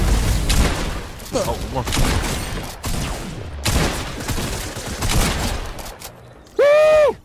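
Assault rifle fire in Fortnite comes in dense bursts, loud and close, under excited player talk, and a rising whistling effect plays near the end.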